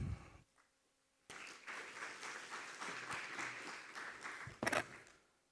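Audience applause at a research conference on forced displacement, starting after a brief moment of speech and quiet, then a sustained burst of clapping that swells and peaks near the end.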